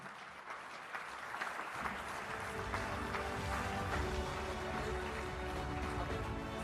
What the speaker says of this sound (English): round of applause for the Union Finance Minister